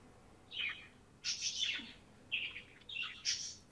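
Birds chirp in four short bursts of bright tweets, faint and somewhat distant, with quiet pauses between calls and no voices.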